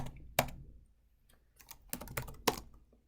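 A computer keyboard clacks in a few sharp, separated keystrokes and short clusters, fairly close and quiet, with near-silence between presses.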